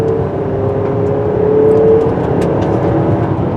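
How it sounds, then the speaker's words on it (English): A 2025 Buick Enclave SUV's turbocharged four-cylinder engine accelerates with a steady, buzzy hum that rises slightly in pitch, heard from inside the cabin with no talking. "Unfortunately, it sounds like what it is, a little 4-banger sewing machine."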